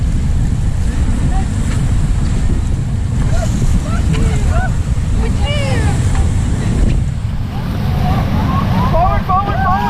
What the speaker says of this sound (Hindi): भैया यार थोड़ी देर रैपिड आ रहा है